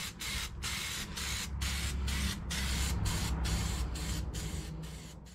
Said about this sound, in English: We left off with spraying that primer.